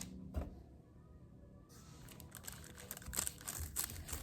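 A knife cuts through a block of candle gel in a few short, crisp clicks and scrapes, close and fairly quiet, with a brief sharp tap near the start and denser crackly cuts toward the end.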